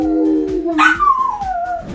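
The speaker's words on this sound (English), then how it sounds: "this dog howls to calm a crying baby" A dog gives a rising, wavering howl amid a crying baby's wails, the two voices overlapping closely and loudly for about two seconds.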